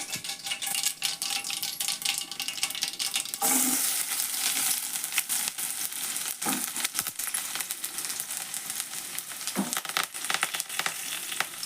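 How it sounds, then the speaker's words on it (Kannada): Onions and curry leaves frying in oil for a lentil dish, a dense, continuous close sizzle with occasional louder spatters and utensil clicks, steady from start to finish. "ಕರಿಬೇವು ಇಷ್ಟಪತ್ತೆ ನೋಡ್ರಿ ಈಗ ಎಣ್ಣೆ ಒಳಗೆ ಫ್ರೈ ಆಗಲಿ ರೀ"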